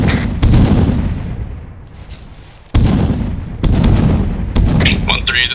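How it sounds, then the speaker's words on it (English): Frag grenades going off in ARMA 3 military training on Bozcaada: several loud, booming blasts in sequence, each with a long rumbling tail, with faint radio chatter in the background. "1-3 is popping frags"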